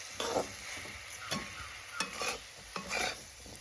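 A spoon stirs a sweet Konkan dish of fresh, tender cashews in a hot pan, with repeated scraping strokes over a steady low sizzle, close and even, with no talking.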